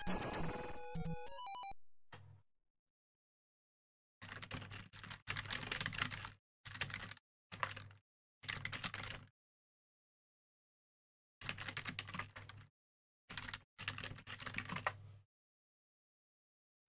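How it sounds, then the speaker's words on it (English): Bursts of fast typing on a computer keyboard come in several separate runs with silent gaps between them, close and clear, and no one talks over them. "Just giving Brad a little bit of typing there since he's got no sound in his office"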